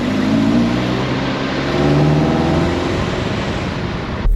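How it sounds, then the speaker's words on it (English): A Nissan 300ZX driving along, its road and engine noise steady and loud throughout, with a low rumbling drone from the wheel area beneath the broadband roar; no talking. "let's diagnose the noise coming from this wheel."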